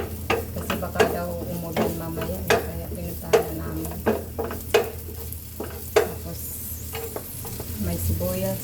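Onions sizzle in a hot pan while being stirred with a utensil, a constant frying hiss broken by regular sharp scrapes and knocks against the pan, close and clear, without talk.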